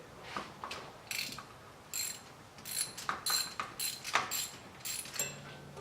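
A ratchet wrench clicks in repeated bursts while loosening a spark plug on a 2015 Chevy SS, the sharp pawl clicks near and fairly quiet, coming in uneven runs with short pauses and no talking.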